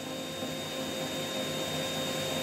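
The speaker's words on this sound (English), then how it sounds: "Let's try, located on the side of the nozzle of the vacuum cleaner, to suck in the smoke coming from the incense stick." A vacuum cleaner nozzle pulls in smoke from an incense stick, a steady, loud broadband whoosh with a faint whine, continuous and close.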